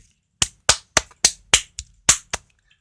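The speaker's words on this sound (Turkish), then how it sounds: "Alkışlayalım." Eight sharp hand claps ring out alone in a quiet room, crisp and evenly spaced at a brisk, steady pace before stopping.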